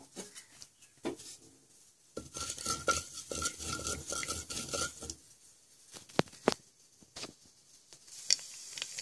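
Mustard seeds and urad dal crackle in hot oil for a mango sambar, giving a quiet, busy spatter with scattered sharp pops and a few louder snaps near the end, with no voices.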